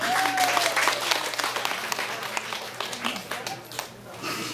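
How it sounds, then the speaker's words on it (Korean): A concert audience claps and applauds for a singer's performance, a dense patter of hands that gradually thins toward the end, with a brief whistle-like tone near the start. "박수."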